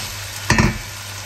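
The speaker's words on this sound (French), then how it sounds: "Et là, on mélange bien, on fait griller tout ça" Ground beef filling for empanadas sizzles in a pan with a steady low hiss, broken by one short scraping burst of stirring, with no voices.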